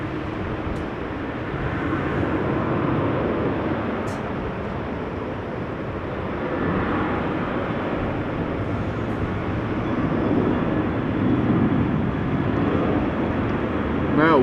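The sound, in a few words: Boeing 747-8 taxiing at Amsterdam Schiphol Airport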